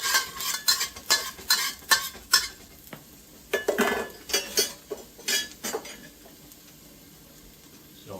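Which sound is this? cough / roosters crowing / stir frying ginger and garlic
stir frying ginger and garlic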